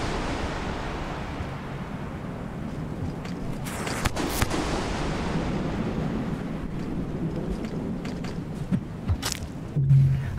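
Grenade explosions in the video game Rain World Downpour, heard as a continuous heavy rumbling roar with a few sharper bursts and cracks, loud and close, with no voices.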